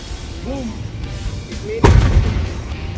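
Voices talk briefly, then a single sharp bang from a Judas belt string of firecrackers booms nearby, loud and sudden, its rumble fading over the following second.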